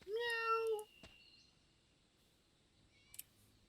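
A cat in the video game Divine Divinity gives one clear, drawn-out meow, followed by near silence and a couple of faint clicks.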